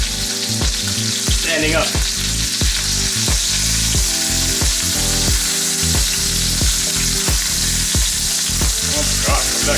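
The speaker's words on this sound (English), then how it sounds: "now let's try to sear the other side" A NY strip steak sears in a pan with a loud, steady sizzle and regular rhythmic scraping or pressing sounds repeating about every half second, close-up, with a brief spoken phrase.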